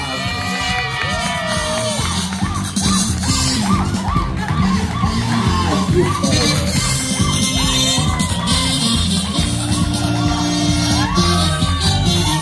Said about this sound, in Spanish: recibimos con un fuerte aplauso al Greña